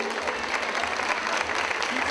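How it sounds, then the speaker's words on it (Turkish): Wedding guests applaud together in a hall, a brief burst of dense, even clapping that stays loud and unbroken for a couple of seconds. "Alkışlar gelsin mi şimdi?"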